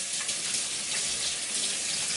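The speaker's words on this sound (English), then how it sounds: "Get my hands really nice and clean." Hands being washed under a running kitchen tap, a steady close hiss and splash of water falling into the sink, continuous and fairly loud with no talk.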